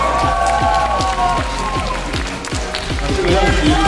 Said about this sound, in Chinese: 请观众朋友最热烈的掌声